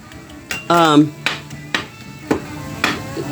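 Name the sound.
chopping rib eye steak for cheesesteak on a griddle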